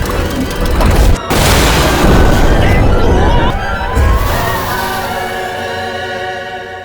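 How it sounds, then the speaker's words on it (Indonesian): An explosion spell from the Konosuba anime detonates in a loud, roaring blast that crashes in, dips briefly, then rumbles on and slowly fades. "semua skill point yang dikumpulkan Megumin telah dialihkan guna meningkatkan kekuatan sihir ledakan"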